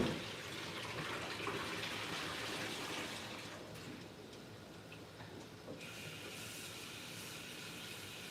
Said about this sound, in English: Let me drain the hot water and put a little bit of cold water